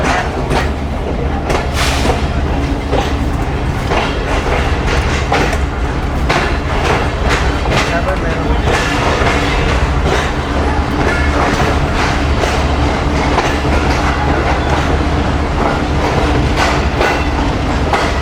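The Pakistan Business Express, running from Karachi to Lahore, rolls past on the rails with loud, steady wheel rumble and rhythmic clickety-clack of carriages, sounding close and continuous.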